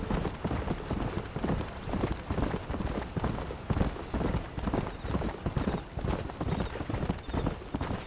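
Galloping horse hooves while riding in the Red Dead Redemption video game, a dense, driving clip-clop rhythm that is loud and continuous across the whole stretch.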